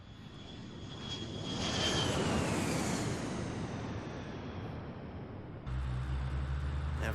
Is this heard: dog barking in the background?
no